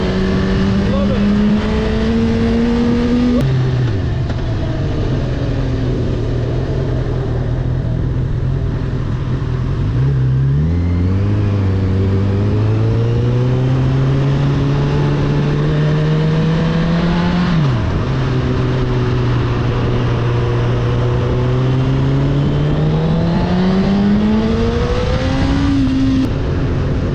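Honda CB1000R motorcycle ridden through Edinburgh streets, its engine droning loud and near, pitch rising and falling with throttle and gear changes, with wind noise and a voice talking over it.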